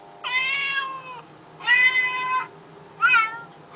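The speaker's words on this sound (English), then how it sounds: "It's got these meows on it." Recorded cat meows play from the Human to Cat iPhone app, three distinct drawn-out meows with clear harmonic tone, fairly loud and alone over a faint steady hum.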